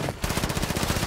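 Rapid automatic gunfire in Call of Duty: Modern Warfare rattles in a steady burst of evenly spaced shots, loud and close, after a brief pause at the start.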